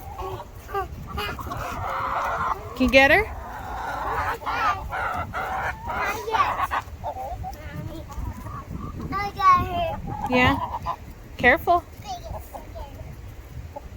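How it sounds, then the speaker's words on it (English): Hens, including a Light Brahma, cluck and squawk in short bursts close by, mixed with people talking and moving around them. "This is my one light Brahma that is now my son's favorite chicken."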